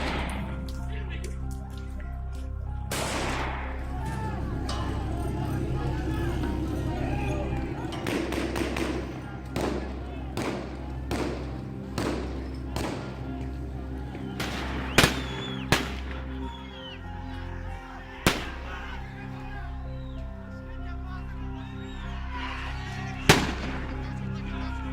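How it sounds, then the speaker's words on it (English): Sharp gunshots fired by security forces at protesters during Iran's November 2019 nationwide unrest, a handful of loud isolated cracks spaced apart over a dense, rumbling crowd din with voices. "security forces began shooting demonstrators in the head"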